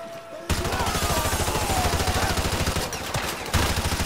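Sustained automatic gunfire in the Call of Duty Modern Warfare video game, a dense rapid rattle of machine-gun bursts that starts abruptly after a brief quiet moment and continues loud and steady with heavy low thumps.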